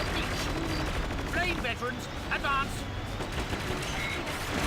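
Tank turret fire in the video game Battalion Wars 2, heard as a series of rapid bursts and booms under a constant noisy combat backdrop, with brief voice-like sounds mixed in.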